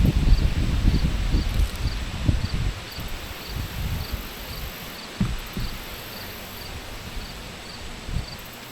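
Honeybees buzz during a hive inspection as frames are handled, a soft, steady hum beneath closer rustling and handling knocks, loudest early on, then easing to a quieter drone.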